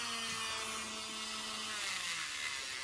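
Worx MakerX WX739 brushless rotary tool cutting under load at minimum speed, a steady close whine with sustained tonal hum held evenly for the whole stretch, no voices.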